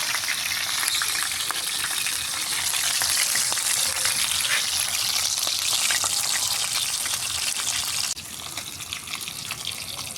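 Milkfish (bangus) from Dagupan frying in hot oil in a pan, a loud, steady, dense sizzle that crackles throughout and drops slightly in level near the end.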